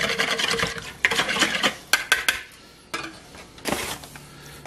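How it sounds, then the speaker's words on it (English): A spoon stirs yeast into water in a bowl to dissolve it, giving close, repeated scraping and clinking strokes in uneven bursts with brief pauses. "I'm going to mix this up to dissolve this yeast"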